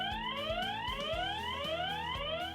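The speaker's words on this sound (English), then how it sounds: "sound the siren to scare off intruders" A Swann Spotlight outdoor security camera siren wails in rapid rising sweeps, a repeating electronic whoop that runs continuously at moderate volume.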